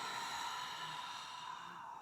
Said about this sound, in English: Exhale out through the mouth.